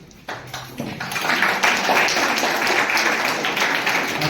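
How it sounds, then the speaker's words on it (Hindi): An audience at a youth dialogue event in a nursing college hostel in Jaisalmer breaks into loud, sustained clapping that swells after a brief start and holds as a dense wash of applause. "तालियां तो बजा ही सकते हैं।"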